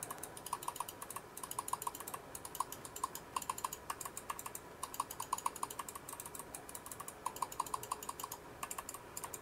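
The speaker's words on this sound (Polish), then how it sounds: "takiego kliku możecie spodziewać się po dłuższym użytkowaniu tej myszki" Buttons of a Logitech G303 Daedalus Apex gaming mouse clicking in quick, irregular bursts of sharp, close ticks, with no speech over them.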